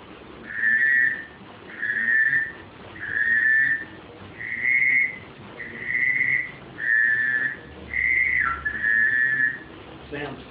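A custom duck call whistle imitates pintail and widgeon, giving eight evenly spaced, clear whistled notes about a second apart, each short and bright, played alone at close range.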